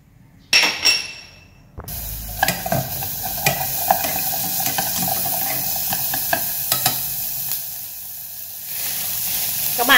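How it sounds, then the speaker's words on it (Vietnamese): Shallots sizzle and crackle steadily in hot cooking oil after a sharp clatter at the start, with occasional scraping stirs, close and fairly loud. "Hành các bạn cho vào để mình phi lên nhé."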